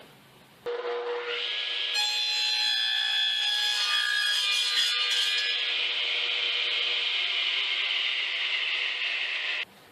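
Steady, continuous sawing through wood, a sustained rasping with ringing tones, running for several seconds before stopping abruptly.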